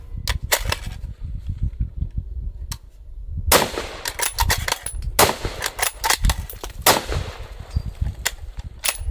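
Shots from a custom Alamo Precision Rifle Ranger in 6.5 Creedmoor, built on a Remington 700 action: about a dozen loud, sharp cracks at uneven spacing, some close together, each with a short ringing tail over steady outdoor rumble.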